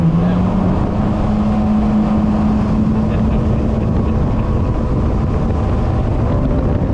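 A jetski-style aquatic utility vehicle with dual supercharged four-cylinder engines accelerating on water, a loud steady engine roar with a rising tone, buffeted by wind noise.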